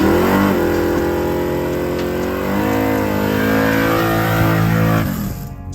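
A 1978 Chevrolet Malibu with a fresh 406 small block, Trick Flow heads and intake, and an Isky hydraulic roller cam roars loudly and steadily as it accelerates on the street, then fades at the end.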